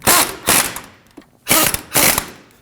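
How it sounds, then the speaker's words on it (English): Ratchet snugging the brake caliper bracket bolts on a 2009-2014 Ford F-150 during a front brake job, four short loud clicking bursts in two pairs, close up with no voices. "We can go ahead and install our brake caliper bracket. We can snug each of those up."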